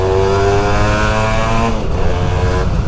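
A Kawasaki Ninja R motorcycle engine, compared in standard versus ported tune, revs steadily at close range on a quiet night street, holding a loud, rich drone with a slight dip and rise near the end.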